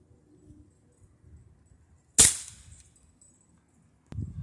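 A .177 pellet from a Gamo Whisper Fusion Mach 1 air rifle striking a can lid: a single sharp, loud crack with a short bright ring-out, over quiet low background rumble, followed by faint handling noise.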